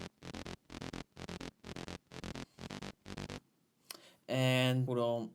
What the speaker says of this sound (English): Then I added this bass.